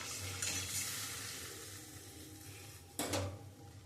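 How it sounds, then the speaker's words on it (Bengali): Curry gravy bubbles at a low simmer in a pan, a faint, steady sizzle broken by a couple of clinks of a spoon against metal, no voices. "ঝোলটা ফুটে গেছে"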